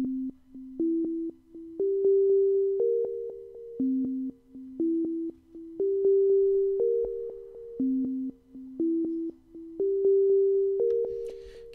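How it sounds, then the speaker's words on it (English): Sonic Pi synth notes with an echo effect play a repeating rising melodic phrase, each tone ringing on and trailing off in echoes, steady and clear with no voices. "Now each note is echoing as it plays."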